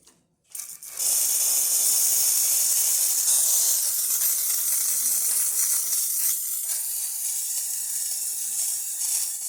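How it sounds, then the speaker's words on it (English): The steam wand of a Lelit MaraX espresso machine opens with a sharp burst, then hisses loudly and steadily for several seconds, a bright airy rush that eases slightly toward the end. "So let's test the steam one."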